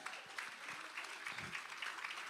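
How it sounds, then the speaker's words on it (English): An audience applauds a presenter introduced at an event, producing a continuous patter of many hands clapping at a moderate distance, fairly soft and even. "we've heard everybody clapping"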